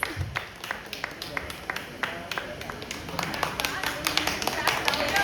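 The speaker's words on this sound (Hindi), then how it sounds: "जोरदार तालियां प्लीज।" Audience clapping at a television show launch event, a scattered, moderately quiet patter of hands that builds slightly in density and loudness toward the end, with a voice speaking over it.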